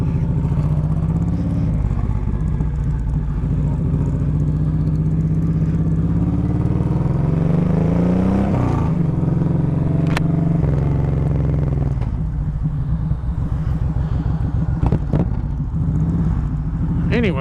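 A 2007 Honda VTX 1800 motorcycle rides with a deep, loud rumbling engine throughout, rising in pitch under acceleration and dropping around a gear change before pulling again.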